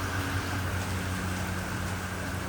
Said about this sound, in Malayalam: അപ്പോൾ മഴ നല്ല അടിപൊളിയായിട്ട് വരുന്നുണ്ട്